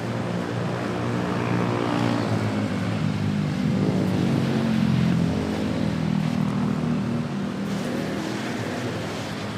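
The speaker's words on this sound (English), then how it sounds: "Singapore Airlines touching down." Singapore Airlines airliner touching down at Manila Airport, a loud continuous jet roar with a steady low rumble that swells slightly mid-way and holds steady through the end, no voices.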